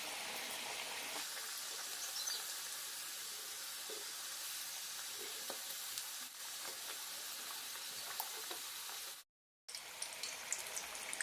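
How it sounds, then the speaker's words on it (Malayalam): Veg samosas deep fry in oil over a low to medium flame, a soft, continuous sizzling hiss with scattered pops, faint and steady, broken by a short silence near the end. "ലോ ടു മീഡിയം ഫ്ലെയിം മാറി മാറിയിട്ട് വറുത്തെടുക്കാം."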